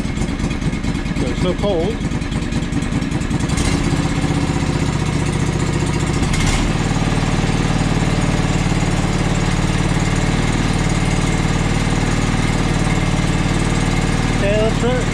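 A John Deere 445 lawn tractor engine runs loud and close, surging in a couple of quick revs before settling into a steady drone, with a person speaking briefly early on.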